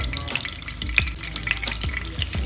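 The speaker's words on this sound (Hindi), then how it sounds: "अब हम इसमें कबाब फ्राई होने के लिए रख देंगे।" Chicken kebabs frying in desi ghee in a pan, giving a steady close sizzle with repeated sharp crackles and pops and occasional stirring scrapes throughout, no talking.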